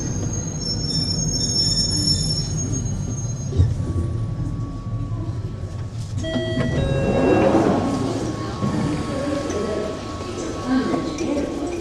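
A London Underground train runs through a tube tunnel with a constant loud rumble. High metallic wheel squeals rise over it at the start and again partway through, sustained across the whole stretch.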